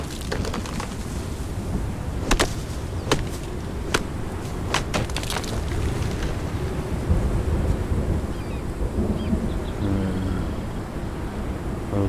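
Storm ambience in Conan Exiles as the maelstrom arrives: a steady roar of wind and rain with several sharp cracks scattered through, close and continuous, no talk.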